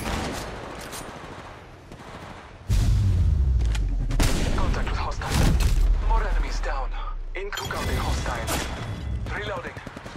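Bursts of gunfire and heavy impacts in the Apex Legends Mobile video game, loud and close, mixed with game music and voice callouts.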